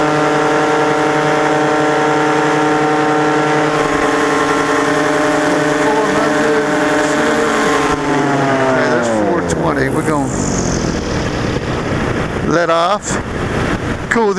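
A paramotor engine runs at full power in flight, a loud, close, continuous droning whine that holds steady at first and then shifts in pitch as the revs change, with wind noise throughout.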